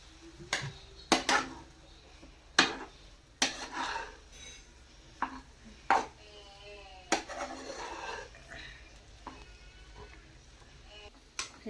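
A spoon scrapes and clinks against a kadhai while semolina is stirred and roasted so it doesn't stick, giving sharp, irregular knocks spaced a second or two apart over a quiet background.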